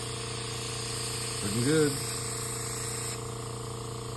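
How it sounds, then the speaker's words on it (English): An airbrush sprays a steady, close hiss while it is being cleaned and flushed, with a brief bubbling gurgle partway through; a voice speaks a few words over it. "then we'll spray again to continue cleaning the brush out"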